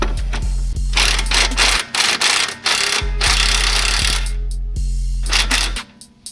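An impact wrench hammers away at a 19 mm nut and bolt in loud rattling bursts, broken by short pauses and restarts, over a steady low machine hum.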